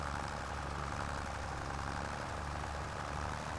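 A modded tractor engine in Farming Simulator 25 drones steadily and loudly, a dense low rumble with a broad, noisy hiss over it and no letup for the whole stretch.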